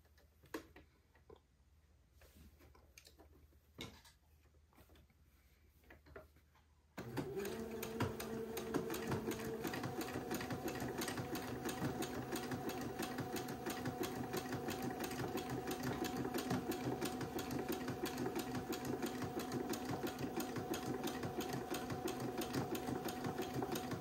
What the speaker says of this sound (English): let me change my machine to a zigzag. And then I'll zigzag along this entree line